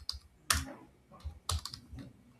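Keystrokes on a computer keyboard while Django code is typed, arriving in a few short clustered bursts of crisp clicks with brief pauses between them, close and fairly quiet.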